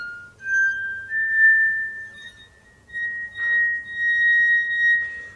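High glass tube of a glass harmonica ringing out in clear, sustained pure tones, several notes held in succession with slight swells and pauses, loud and close, with no talking.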